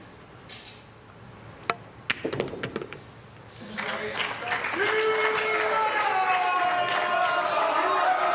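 A crowd of about 2,500 at a 2022 Mosconi Cup pool doubles match bursts into loud, sustained applause and cheering after a few sharp clicks of pool balls, with voices in the crowd.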